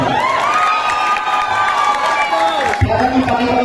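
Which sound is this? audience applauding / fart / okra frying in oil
audience applauding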